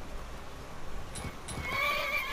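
Horse in Skyrim whinnying in a rising, drawn-out neigh near the end, preceded by a couple of sharp hoof clops on ground, close and fairly loud with no talk.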